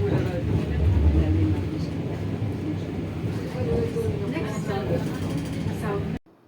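A ground-level tram in Education City, Qatar, running with a steady low rumble and hum inside the car while someone talks over it throughout.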